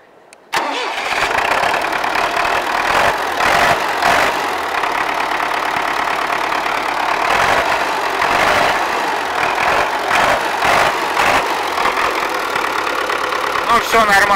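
An MTZ-80 tractor engine cranks and catches in frosty weather, then runs on in a loud, rough, uneven idle with revving surges throughout.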